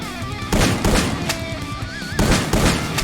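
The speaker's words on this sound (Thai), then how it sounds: "นี่เขายิงผม" Gunfire in the battle royale shooter Free Fire, several heavy, loud shots spaced apart at close range, with a game soundscape and faint tones between them.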